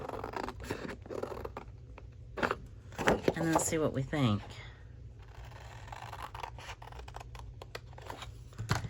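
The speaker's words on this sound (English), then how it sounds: "Let's see if I can cut this with just scissors." Scissors snipping through paper for a creative journal, a run of close crisp cuts mixed with paper rustling, with a voice speaking partway through.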